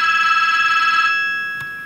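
A telephone rings loudly and close by with a steady, shrill electronic trill that stops abruptly partway through, leaving a brief quiet tail.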